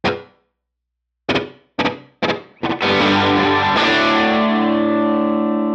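Electric guitar played through a slapback delay effect: a few short, clanging chord stabs each trailed by a quick repeat, then a sustained ringing chord that slowly decays, loud and close with no talking.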